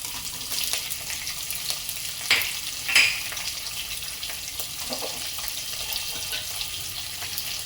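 Onions and curry leaves fry on a high flame for spicy rice, giving a steady crackling hiss with a few soft stirring scrapes and clinks. No one speaks.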